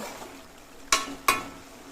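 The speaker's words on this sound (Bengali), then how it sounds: "এই হাতা দিয়ে একটু নাড়াচাড়া করব।" A steady background sizzle of fish and vegetable curry with two sharp scraping knocks of a ladle against the pot, about a third of a second apart.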